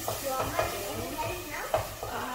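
Sambar simmering and being stirred in a pot over high heat, with soft sizzling and bubbling under a few scraping stirs, close and moderately loud.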